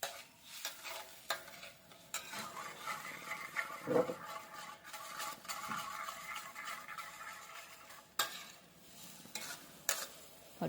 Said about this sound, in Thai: อย่างเดือดเข้ากันดีแล้ว